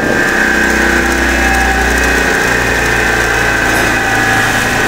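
A bench grinder's electric motor keeps humming loudly and steadily after being switched off in an automotive workshop, with a constant high whine and low drone that ease only slightly.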